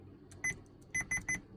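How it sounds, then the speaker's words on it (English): A Kenwood car stereo head unit installed in a car gives short electronic beeps: one at first, then a quick run of three, close and clear over low cabin hum. "The one thing it is a little bit of a bummer is that little bit of beep"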